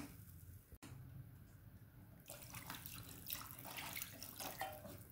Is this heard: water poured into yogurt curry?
yes